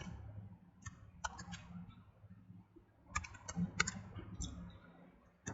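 Someone types on a computer keyboard in a few short clusters of light, quiet key clicks with gaps between them, and nobody speaks.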